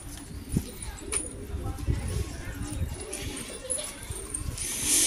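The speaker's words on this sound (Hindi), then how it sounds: "ये देखो कितने कबूतर है।" Pigeons coo softly, with soft fluttering, amid village background noise while a person talks nearby.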